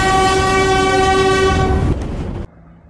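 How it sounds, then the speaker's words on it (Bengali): Darjeeling Himalayan Railway toy train near Kurseong on Hill Cart Road sounding a loud, sustained horn as it passes, followed by rumbling and rail clatter that fades out abruptly. "সাথে পেলাম DHR টয় ট্রেন।"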